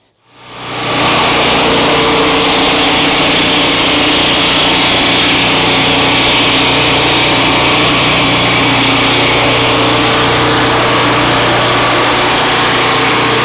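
A Turbosawmill chainsaw mill cutting a log: the engine starts up, climbs quickly to full power, then holds a loud, steady, high-pitched roar throughout with no talking.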